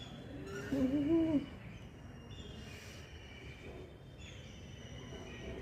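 A single harsh parrot squawk rings out near the start, followed by faint high whistling tones over a low steady background rumble.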